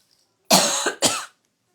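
A pair of loud, close coughs in quick succession after a moment of silence.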